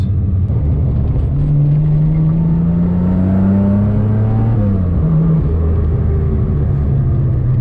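A Nissan R31 Skyline drives along with a steady engine drone that rises in pitch through the gears, then shifts and settles back, a smooth continuous hum heard from inside the car with no talking.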